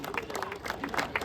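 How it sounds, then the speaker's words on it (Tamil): A crowd applauds at a tennis-ball cricket league opening ceremony, with steady scattered clapping throughout a short burst over a murmur of voices. "அதுக்கு ஒரு பெரிய கைத்தட்டல்."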